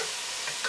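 Tofu stirred around in a hot frying pan, a short burst of even sizzling with a faint scrape of stirring near the end.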